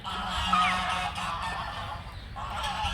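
Geese or ducks honk from a farm orchard's bird pen, a few nasal calls rising over steady outdoor background noise, moderately distant with no talk.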